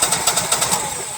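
Generac Honeywell generator engine (model 60341) turning over on a magneto spark test, a rapid rhythmic chugging and clicking of about seven quick cranking pulses close by, fading into a steady hum.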